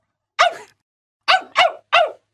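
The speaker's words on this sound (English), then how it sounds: "Gellert looked at his master and barked happily." A dog barks four times in short, bright bursts, one alone and then a quick run of three, close and clear against silence.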